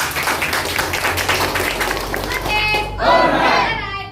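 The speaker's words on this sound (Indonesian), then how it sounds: "Kasih aplaus lagi satu kali untuk Pak Dimas ya" An audience claps for Pak Dimas at a motivational business gathering. Steady crowd applause fills the first few seconds, then fades as a voice speaks over the last of the clapping.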